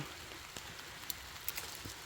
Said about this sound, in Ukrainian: А, дощик крапотить.